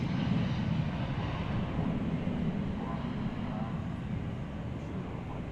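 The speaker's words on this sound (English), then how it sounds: "There's a flight from Phoenix coming in." A jet airplane at DFW Airport roars as a steady, broad engine rumble, loud and sustained throughout without any break.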